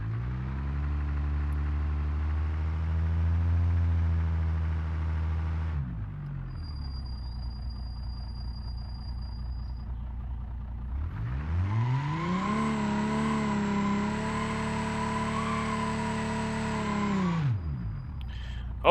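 A drag-racing car in the BeamNG.Drive video game revs its engine with a long steady roar, drops back to a lower idle, then climbs into a second loud, rising rev before cutting off.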